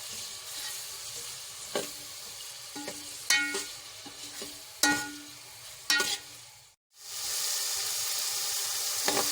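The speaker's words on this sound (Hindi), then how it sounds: "इसको मैं थोड़ी देर और भूनूंगी लहसुन अदरक के साथ" Liver sizzles steadily in a hot pan with garlic ginger paste while a spoon stirs and scrapes through it in irregular knocks; the hiss drops out briefly, then returns as a louder, steady frying sound.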